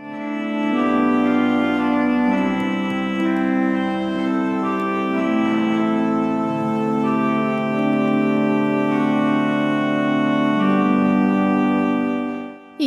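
Church pipe organ played by a cantor in a cathedral-style church, loud sustained chords with rich harmonics and a deep bass line, held continuously throughout without any talking.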